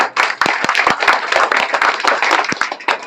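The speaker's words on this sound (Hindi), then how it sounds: "इन सभी बच्चों के लिए ताली बजाकर इनका उत्साह और" A small audience at a 2023 award ceremony for top-scoring students claps in distinct, uneven hand strikes, the individual claps clearly separated and close by, continuing for about three seconds with no talk.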